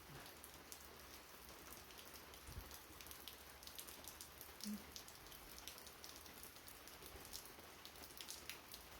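Heavy, cold rain in the mountains pours steadily on a surface, a dense continuous patter with scattered louder drops, no voices.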